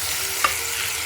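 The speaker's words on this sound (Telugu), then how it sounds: "ఇప్పుడు మనం టమాటాలు వేసుకుందాం." Tomatoes go into a hot pan of frying ginger garlic paste, making a steady close sizzle with a brief utensil clink.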